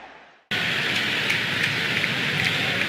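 Steady heavy rain hisses loudly over the pitch during a football video game match between FC Barcelona and Real Madrid set in Catalonia, a dense unbroken wash that starts abruptly after a brief quieter moment.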